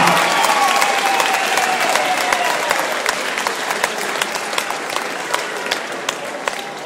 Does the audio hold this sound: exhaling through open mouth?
no